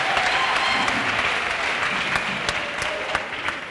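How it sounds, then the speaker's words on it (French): A congregation at a Bible camp in Côte d'Ivoire breaks into loud, dense applause, a continuous wash of many hands clapping that slowly thins toward the end. "Acclamez."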